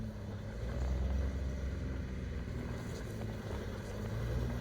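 A 400-horsepower car engine roars steadily at high revs while driving in snow, a loud continuous low rumble with no pauses.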